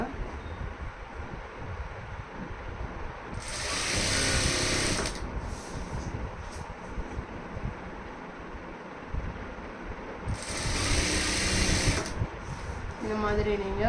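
A sewing machine stitches falls onto a saree in two loud, steady whirring bursts of a few seconds each, separated by pauses with quieter handling noise.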